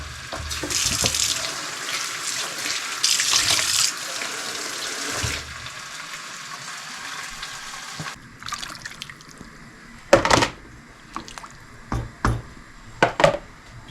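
Kitchen tap water running into a sink while meat is washed, a steady hiss of flow at first, then stops and gives way to separate splashes and clinks, close and fairly loud, no speech.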